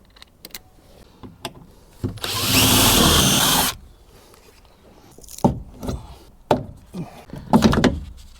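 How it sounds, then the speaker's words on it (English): A power drill whirs loudly for about two seconds drilling out rivets on a Ford Focus Mk2 door speaker mounting, surrounded by scattered clicks, taps and handling knocks at close range. "the next stage is going to be to drill out these rivets here"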